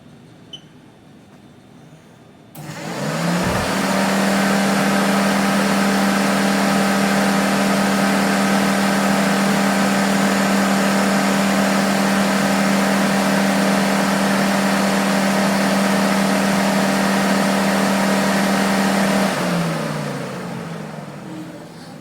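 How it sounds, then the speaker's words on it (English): Dodge OEM radiator fan running on a 3-inch thick radiator starts with a thump, spins up to a loud steady whirring drone with a constant hum, runs evenly for about sixteen seconds, then begins winding down, with no one talking. "this is the OEM fans on the 3-inch thick radiator"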